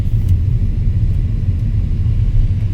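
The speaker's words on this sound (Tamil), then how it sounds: "இன்ஜின் நாய்ஸு ரொம்ப ரொம்ப கம்மியாக தான் கேட்குது உங்களுக்கு கேபினில்" Low, steady rumble of a Skoda Kylaq's 1-litre turbo petrol engine heard from inside the cabin on an automatic test drive, a muted drone with no voices.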